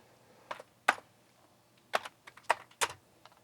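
Typing on a repaired Atari 800 keyboard with a Mitsumi membrane: a handful of sharp, irregular key clacks, close and fairly quiet, with gaps between presses and no talking.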